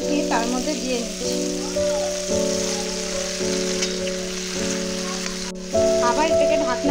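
Okra and potatoes sizzle steadily in a pan of hot oil, a constant crackling fry with a faint tonal hum running underneath.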